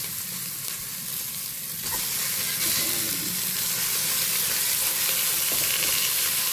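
Chicken pieces hit a hot pot already holding sautéed lemongrass, setting off a loud, steady sizzle and frying hiss that swells and stays strong with some stirring, close and continuous.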